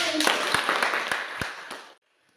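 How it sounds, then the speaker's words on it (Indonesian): Classroom applause after a student group's report, a burst of clapping with sharp individual claps that fades out and stops abruptly after about two seconds. "Tepuk tangan."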